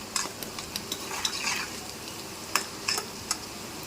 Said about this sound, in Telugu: ఉల్లిపాయలు అయితే వేగుతున్నాయండి.